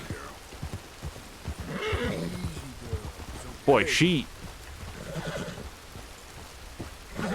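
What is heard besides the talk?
horse neighing in Red Dead Redemption 2 video game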